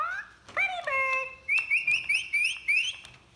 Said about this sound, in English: It like says like pretty bird. And like tweets.